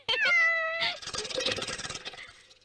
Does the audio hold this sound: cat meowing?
yes